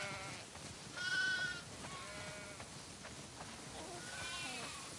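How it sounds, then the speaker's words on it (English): Several sheep bleat as they are herded into a barn: a few drawn-out, wavering bleats stand out over steady background noise, with some talk mixed in. "Wow, that's a lot of sheep."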